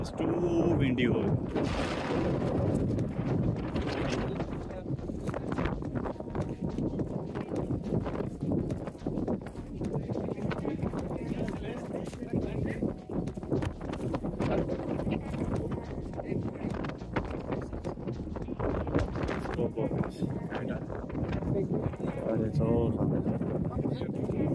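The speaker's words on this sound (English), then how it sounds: "It's too windy over." Strong gusty wind buffeting the microphone with heavy rumbling roar throughout, at a high viewpoint in Santorini, Greece, with a voice talking over it.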